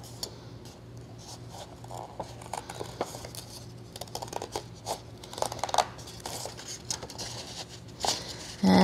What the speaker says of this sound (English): you're gonna use small scissors to cut this out